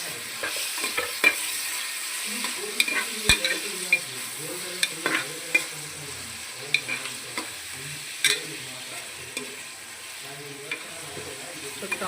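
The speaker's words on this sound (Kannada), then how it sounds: "ಟೊಮೆಟೊ ಕೂಡ ಫ್ರೈ ಆಗ್ತಾ ಇದ್ದಾವೆ." Tomatoes fry in a pan while being stirred, with a steady soft sizzle and a scatter of scraping stirring strokes over twelve seconds, close and fairly quiet, with no talk.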